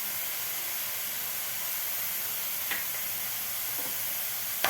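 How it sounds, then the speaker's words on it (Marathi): Ginger garlic paste being sautéed with onions in a pan for a dhaba-style egg masala: a steady soft sizzle and hiss, with a couple of faint stirring clinks and no talk. "आता या अद्रक लसूणची पेस्ट सुद्धा आपल्याला कांद्याबरोबर व्यवस्थित परतून घ्यायची आहे।"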